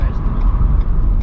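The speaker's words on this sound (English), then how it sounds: "Cars coming up in the mirror." Cars on the Nürburgring approach from behind and pass, a loud close roar of engines and road noise heard from inside a Renault Zoe, with talk alongside.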